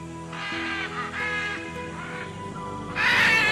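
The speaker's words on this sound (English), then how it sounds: "the powerful, unmistakable cry of the great green macaw" A great green macaw gives loud, harsh squawking cries in a rainforest canopy, several rasping calls in a row ending in a louder burst, with a steady hum underneath.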